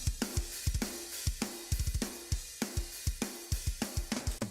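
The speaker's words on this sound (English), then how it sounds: "That's our drums, which sound like this." A programmed drum track from an electronic music production plays alone, with punchy kicks, snappy snares and crisp hi-hats in a steady, fast rhythmic pattern.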